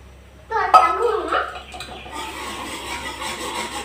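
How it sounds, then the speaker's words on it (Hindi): A spoon clinks against a pot while besan is stirred into lassi, a few sharp metallic taps up front giving way to a steady soft swirling scrape, with someone speaking over the start. "तो आप किसी चम्मच के साथ मैं इसे मिक्स कर लेती हूँ"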